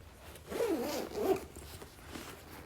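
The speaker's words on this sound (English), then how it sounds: "Zips shut." A zipper on an African print everyday bag is pulled shut in one smooth, close run lasting about a second, followed by faint handling noise.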